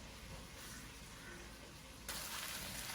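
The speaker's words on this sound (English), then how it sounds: "The most crucial part of this entire dish is searing the meat and allowing the meat to get most of its caramelization and char right at this moment" Mutton searing in a pan for Hungarian goulash gives a steady, quiet sizzle with a soft hiss, which turns louder and brighter for the last second, alone with no talk.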